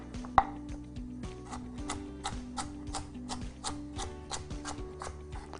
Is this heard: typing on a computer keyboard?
no